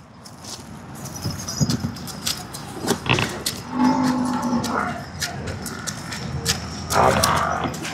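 A Murrah buffalo at a dairy farm moos a few times, drawn-out lowing calls close by amid scattered farmyard knocks and shuffling.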